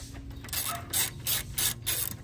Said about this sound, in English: So now we're gonna go ahead and take off the two bolts holding this side fan